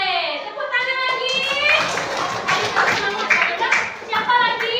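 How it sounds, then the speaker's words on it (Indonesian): Children in a classroom clap their hands together in a steady, busy burst of applause that runs through the whole stretch, with young voices mixed in. "Oke, tepuk tangan lagi."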